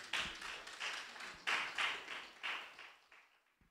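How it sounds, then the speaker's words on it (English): A short burst of clapping from a small group at a report launch, several loud rhythmic bursts that quickly fade away into silence. "please help me welcome Charles Abani with a round of applause."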